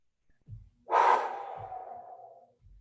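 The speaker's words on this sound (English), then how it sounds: "Good breathing." Heavy breathing during a fitness workout, a couple of soft low puffs followed by one long, loud exhale that tapers off, then another faint breath, close and without talk.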